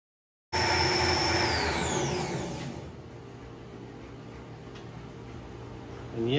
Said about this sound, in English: that was indeed my belt sander